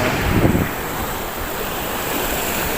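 Strong sea waves break at the Al Mina breakwater in Abu Dhabi during bad weather, a constant loud roaring wash mixed with heavy wind buffeting, with a slightly stronger surge near the start.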